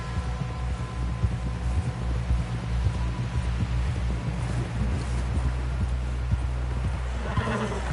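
Horse hooves clip-clop at a steady trot in the video game Red Dead Redemption 2, with a low hum underneath and a brief whinny near the end.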